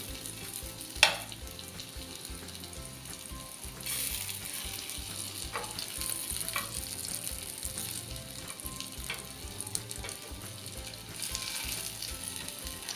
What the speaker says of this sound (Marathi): मंद आचेवर गॅस ठेवून आपण झाकण ठेवून ही फ्राय करून घेणार आहे